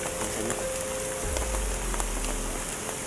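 Steady rain patters on surfaces outdoors, a continuous broadband hiss with scattered faint drop ticks and a low rumble partway through, no voices.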